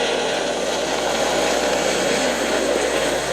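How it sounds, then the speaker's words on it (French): A helicopter arrives in the Duel Révolution MMO video game, heard as a steady, loud, broadband rotor-and-engine drone with a low hum underneath. It holds constant throughout with no speech. "Regarde, maman! Un hélicoptère!"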